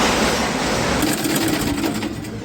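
A sewing machine stitches underwear fabric near the crotch seam, a loud rapid mechanical whirr running continuously, with a slight change in tempo partway through, no talking.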